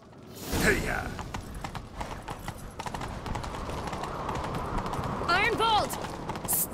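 Rapid clip-clop of galloping horse hooves in The Witcher 3 chase, the rhythm running throughout with a whinny near the start, a shouted voice, and mechanical clatter over the pounding.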